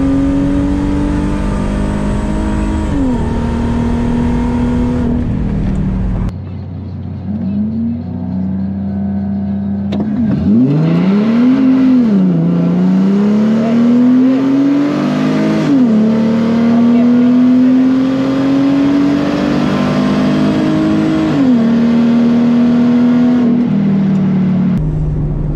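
Mercedes SLK32 AMG drag and roll racing at a cars-and-coffee meet, its engine revving hard with tires spinning, rising in repeated pitch sweeps as it pulls, loud and close with brief pauses between runs.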